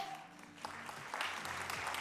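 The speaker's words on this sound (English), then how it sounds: "We can keep clapping." Quiet applause from an audience at a school district's State of the Schools address, clapping continuing in the background as names are read out, soft and fairly even.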